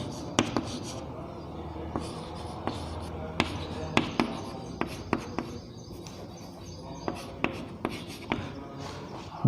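Element names being written on a board during a chemistry lesson, heard as close, irregular tapping and scratching strokes over faint room noise.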